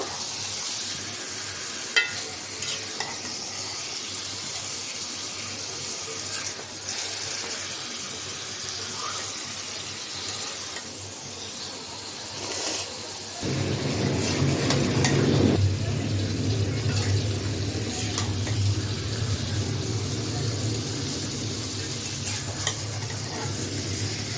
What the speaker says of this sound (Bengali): মাছটা একটু কষাই নেব